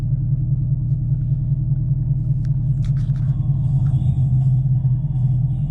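Engine of a Chevy Camaro SS 1LE heard in a played-back drive recording, a steady deep low rumble at constant loudness with faint clicks over it, no voices.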